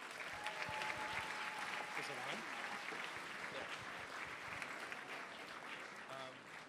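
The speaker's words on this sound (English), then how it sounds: "Let's have a round of applause for our next panel." A conference audience in Tel Aviv gives a sustained round of applause. Dense clapping fills the room throughout, with crowd voices mixed in.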